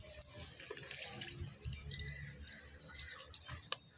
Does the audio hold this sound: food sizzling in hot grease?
no